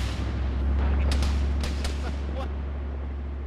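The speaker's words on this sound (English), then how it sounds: "incoming fire" Heavy rumbling artillery fire in a military video game, a loud continuous low boom with a few sharp cracking impacts on top, sustained throughout without speech.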